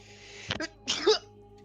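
A single sneeze from a person at a tabletop role-playing game session, with a short sharp burst followed by a longer explosive release, fairly close and clear against a quiet background.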